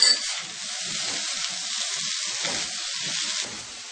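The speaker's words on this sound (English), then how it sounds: "I'm going to add in the tomatoes. Give it a mix." Tomatoes stirred into aloo methi, a potato and fenugreek dish, in a pan with the stove just turned off. A soft, even sizzle runs throughout with faint scraping from stirring.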